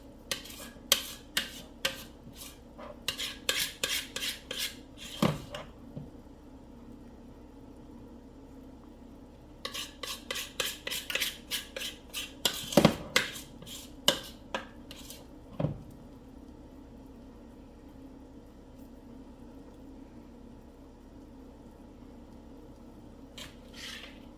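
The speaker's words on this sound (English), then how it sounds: "scraping all the last little bits out of my bowl." A spoon scrapes the last bits out of a bowl in quick, clinking bursts of close scraping strokes, two main flurries separated by quiet pauses, then a few isolated clicks.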